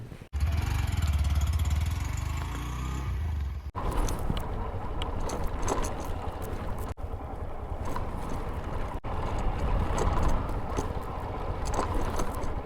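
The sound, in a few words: motorcycle kick-started and ridden on a muddy road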